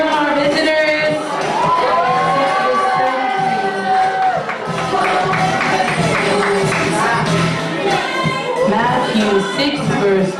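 Crowd cheering and shouting at a church youth service, loud and sustained throughout, with excited voices and whoops layered over a constant din of many people.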